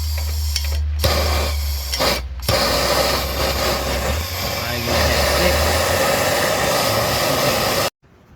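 Yellow propane torch heating the O2 sensor bung on the exhaust of an Infiniti I30 3.0, a steady roaring hiss that briefly cuts out twice early on, then runs continuously at close range before stopping abruptly.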